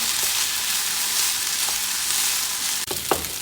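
Egg fried rice with corn and spring onions stirred in a hot frying pan, giving a steady loud sizzle and a couple of sharp scrapes of the utensil near the end, close up with no talking.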